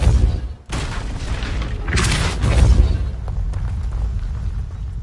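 A Depulso spell goes off in Hogwarts Legacy, a heavy booming blast with a deep rumbling body and a burst of whooshing energy that swells and lingers over a low continuous background.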